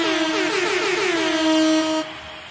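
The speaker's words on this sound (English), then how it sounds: "Cue the music and the air horn." A loud air horn sounds one sustained celebratory blast with a strong harmonic tone and a slight pitch wobble, holding for about two seconds before cutting off abruptly, with no one talking over it.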